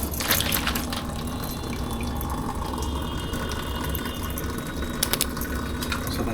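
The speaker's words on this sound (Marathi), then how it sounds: "मम्मी छान असे धुवून घेत आहे खेकडे आता." Crabs being washed in water give a steady close splashing and running-water wash with small sloshes and a couple of sharper clinks near the end, no speech.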